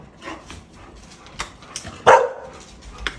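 A dog barks in short sharp bursts, a few scattered yips building to one louder, fuller bark near the end, close by with no talking.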